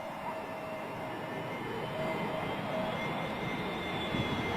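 Aircraft approaching to land at Bristol Airport, passing low overhead with a steady, loud engine roar and broadband rumble that holds throughout and swells slightly toward the end.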